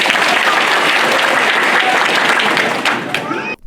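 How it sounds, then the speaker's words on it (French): A large outdoor crowd at a legislative and municipal election campaign rally claps and cheers loudly and continuously, a dense roar of applause that breaks off abruptly near the end. "sous de vives acclamations des populations sorties massivement pour l'écouter"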